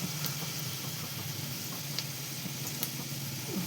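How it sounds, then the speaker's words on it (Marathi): Food fries in a pan until slightly golden, giving a steady close hiss of sizzling oil with faint crackles and pops throughout. "तळून घेऊयात. थोडेसे सोनेरी होईपर्यंत"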